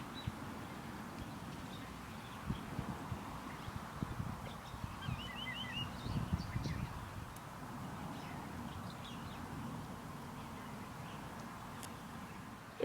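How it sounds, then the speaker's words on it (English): Many birds roosting together in a tree in Hawaii, a steady wash of chirps, calls and quacking-like squawks all around at moderate distance, with a slight swell of busier calling midway and no talk. "You'll see so many birds that live in Hawaii just hang out and roost in this tree. You can hear them all around."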